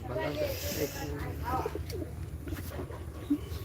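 A pair of pigeons coos softly at close range in short repeated phrases, with muffled voices and background noise around them.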